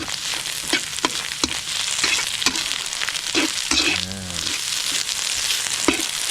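Ingredients and egg stir-fry in a pan while Thai food is cooked, giving a steady sizzle broken by repeated scraping and clanking of the spatula against the pan.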